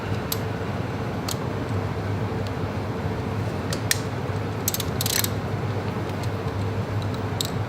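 A ratchet works on a 12 mm bolt on the cam chain tensioner of a Honda Goldwing motorcycle engine, giving faint scattered clicks over a steady mechanical hum.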